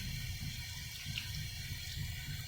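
Tap water runs steadily into a sink while someone rinses their mouth, a continuous close splashing stream with no voices.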